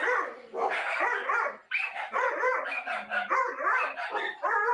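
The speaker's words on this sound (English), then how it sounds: "heard Bosco barking, and he like woke up from his slumber just now" Bosco the dog barks repeatedly and close by, a run of loud, overlapping yelping barks and yips with short gaps, continuing throughout.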